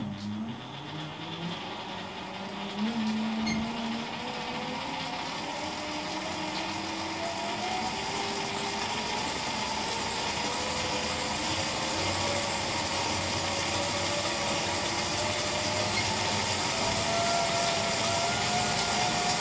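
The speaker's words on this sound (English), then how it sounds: "Gears are kind of starting to complain" A Lexus Toyota hybrid transmission spins under power at high voltage and high speed, its gears letting out a loud, steady whine that climbs gradually in pitch over a constant mechanical roar.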